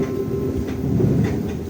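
A KA Batavia economy passenger train of Kereta Api Indonesia rolls along steadily, heard from inside the carriage as a loud, continuous rumble with faint rhythmic clatter of wheels on rail joints.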